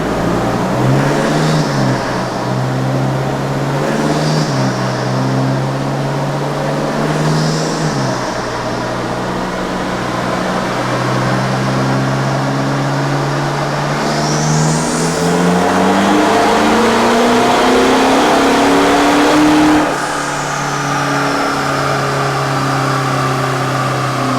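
Tuned SUV engine revving hard on a dyno, set up for power without smoke, roars loud and close, with repeated rising sweeps and drops in pitch over a continuous heavy drone.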